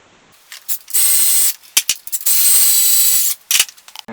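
Ratchet wrench clicking as it tightens alternator bolts on a car engine, two loud sustained bursts of rapid close clicks separated by short pauses and individual clanks, no talk.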